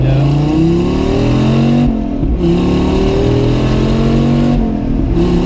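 Car accelerating hard in first gear, a loud close engine roar climbing in pitch through repeated rising sweeps with brief drops between pulls.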